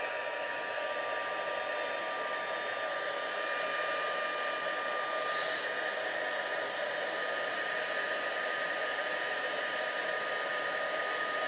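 Heat tool blowing hot air for heat setting, a steady loud whooshing roar with a high whine, constant and close for the whole stretch, no voices.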